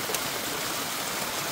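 Cold mountain stream water rushes steadily on a trek route, a dense, even, close splashing wash with no pauses.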